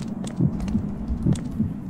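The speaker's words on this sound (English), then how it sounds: "Why am I hearing the heart go ba-boom, ba-boom, ba-boom?" A heartbeat sound effect from a video game thuds in a steady lub-dub rhythm, with about two double beats in two seconds. The low thumps sound close and clear over a quiet background hum.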